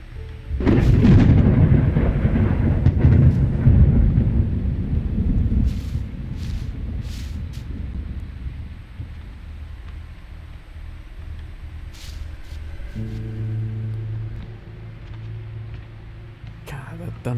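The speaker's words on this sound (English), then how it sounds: "Thunder scared the hell out of me." A loud, close thunderclap opens in A Quiet Place: The Road Ahead and rolls on as a heavy rumble for several seconds before fading into a quiet storm bed, with faint game sounds later.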